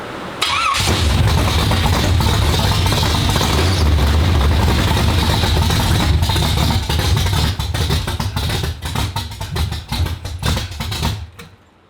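A 355 small-block V8 in a Chevrolet El Camino cranks and catches, then runs loud and rough close by, with clattering and banging over a steady low rumble before it cuts out at the end.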